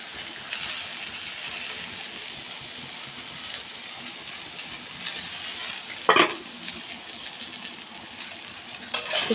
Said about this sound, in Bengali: এদিকে দেখো বাঁধাকপিটা ফুটছে।